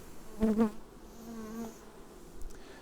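Honey bees buzzing around an April beehive, a soft steady drone of many insects close by, with a voice speaking briefly over it near the start.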